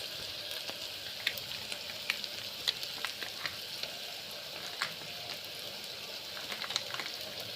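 Ginger garlic paste sizzles with softened onions in a pan for a chicken curry, a quiet continuous frying hiss dotted with small pops and crackles.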